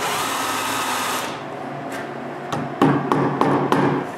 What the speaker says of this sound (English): I drill some holes so I'll be able to screw this to the frame